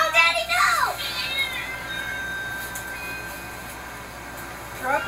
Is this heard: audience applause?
no